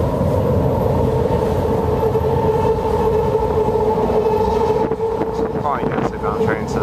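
A four-car BART Green Line train rolls toward the platform with a loud, steady rumble and a sustained rail hum, rising in screechy, squealing tones toward the end, while someone talks over it.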